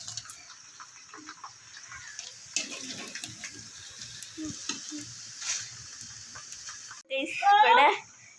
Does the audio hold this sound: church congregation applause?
no